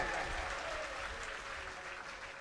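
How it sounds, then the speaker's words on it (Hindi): A crowd at a community gathering breaks into steady applause, a dense, even wash of clapping that holds for a couple of seconds and is faint and slightly distant, with no talking heard. "एक बार जोरदार तालियां बजाई जाएं।"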